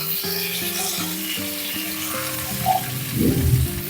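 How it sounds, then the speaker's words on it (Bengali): A Bengali shukto with polta leaves: vegetables frying and stirred in a spice tempering, a soft sizzle under melodic background music, then a louder burst of crackling and stirring near the end. "ফোড়নটা একটু নেড়ে নিয়ে এক এক করে সবজিগুলো দিয়ে দেব।"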